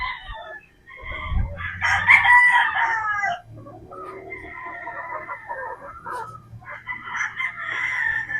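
Boston Black gamefowl roosters crow at a flock selection ahead of an expo, several loud, close crows overlapping one another with short gaps between calls.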